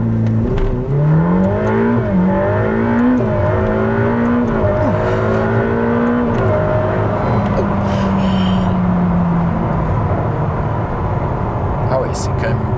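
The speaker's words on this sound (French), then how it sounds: "Et là, on va accélérer." A Ferrari F8 Spider convertible launches hard, its engine note sweeping up through rising gears with a roaring, climbing whine, heard from inside the car over a steady wind roar as a person speaks and gasps.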